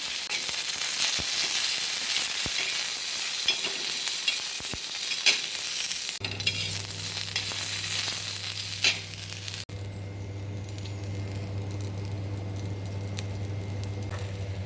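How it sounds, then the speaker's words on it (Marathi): Slit green chillies fry in oil on a hot tawa, a close, crackling sizzle with popping spatters and stirring clicks; the sound later drops to a quieter hiss over a steady low hum. "ताव्यावरती मी तेल टाकून यावरती मिरच्या टाकून घेतला कट करून याचा मी थोडंसं भाजून घेतो"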